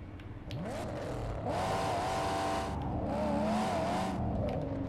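A car engine in the video game Mad Max drones steadily and loudly, rising and falling in pitch as it revs through two long surges, with a low rumble beneath.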